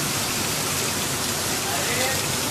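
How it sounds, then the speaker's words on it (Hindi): Heavy rain pours down in Aurangabad city, a dense, steady roar of falling water that fills the whole stretch without a break, loud and close. "इतनी ज़बरदस्त बारिश"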